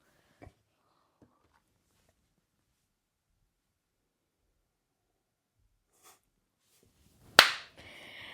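A single sharp hand clap rings out close by after several seconds of near silence, followed by a brief decaying tail.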